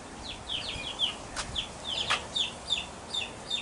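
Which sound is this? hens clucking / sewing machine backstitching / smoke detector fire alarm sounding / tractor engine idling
hens clucking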